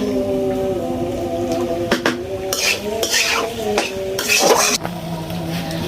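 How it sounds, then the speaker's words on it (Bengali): A utensil stirs macaroni frying in a metal pan over a clay stove, with several loud, distinct scraping strokes against the pan over a faint sizzle. "ম্যাকারনিগুলো দিয়ে তারপর হচ্ছে ম্যাকারনিগুলো একটু ভাজতে হবে"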